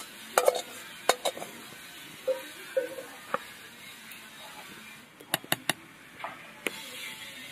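Turmeric and spices in hot oil for winter-vegetable khichuri, stirred in a pot: a soft, low sizzle under scattered sharp clinks and scrapes of a utensil against metal, fairly quiet and close.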